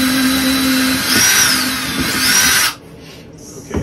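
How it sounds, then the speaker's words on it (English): A power drill whines steadily for almost three seconds while boring a pilot hole, then cuts off, leaving quiet room noise and a faint final tap. "Pilot drill."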